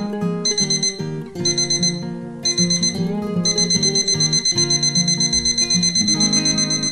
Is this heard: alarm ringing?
yes